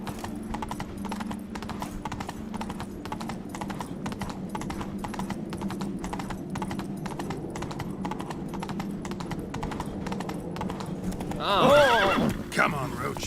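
Hooves clip-clop steadily through a video game horse ride, with a loud whinny near the end, while people talk over it throughout.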